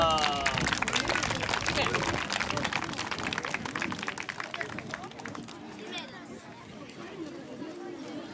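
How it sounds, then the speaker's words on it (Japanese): A crowd at a youth football award ceremony bursts into sustained, busy applause for a team called up to receive a prize, with chatter and voices mixed into the clapping throughout. "拍手。"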